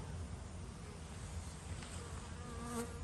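Honeybees around their hive, a dense, continuous low buzzing from many wings, soft and close with a slight rise in intensity toward the end; no voices.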